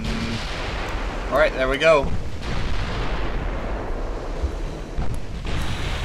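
A naval artillery broadside fires in the warship strategy game Ultimate Admiral Dreadnoughts, deep rumbling booms rolling over a windy background while someone speaks briefly in the middle.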